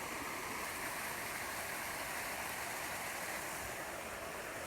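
A small waterfall with little water in the High Sierras gives a soft, even, continuous rush from a short distance, unbroken and without any talking.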